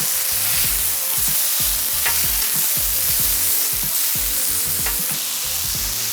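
Beer-marinated fajita steak sizzles loudly and steadily on a hot grill, a dense close crackling hiss that never lets up, with faint clicks running under it.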